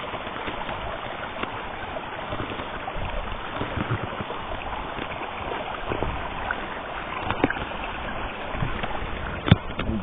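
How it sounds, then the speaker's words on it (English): A mountain stream near a trail shelter above Manitou Springs rushes downhill in a steady broadband wash, close and continuous, with small splashes and one brief sharp knock near the end. "Here by the shelter, the stream, flowing downhill towards Manitou Springs."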